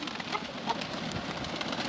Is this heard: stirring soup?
no